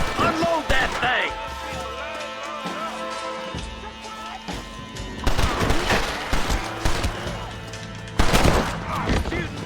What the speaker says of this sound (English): You're shooting fresh air there, boy.